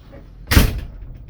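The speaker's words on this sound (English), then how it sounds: "That's the door I hate it. It shakes the whole cabin." A cabin door slams shut aboard the Majestic Princess cruise ship, one loud, heavy thud with a brief rattling decay, heard up close in a quiet room.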